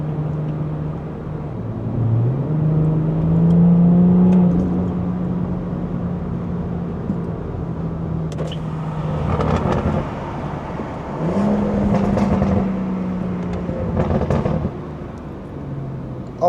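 A BMW B58 engine with Stage 2 tune and aftermarket exhaust drones steadily inside a cabin in Sport Plus mode, swelling into a couple of throaty revs with rising pitch before settling back to a low hum.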